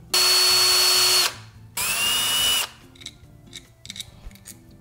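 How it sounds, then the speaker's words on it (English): A power drill bores out a hole in a SHARI PiHat enclosure with two loud whining bursts separated by a short pause, then fades into quieter clicks and handling noises. "I'm just gonna gradually make this bigger"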